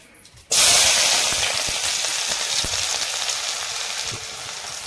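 Sliced onion dropped into hot oil for a Maharashtrian gram-leaf bhaji, bursting into a loud, steady sizzle that settles slightly over several seconds, close up with faint crackles and no talking.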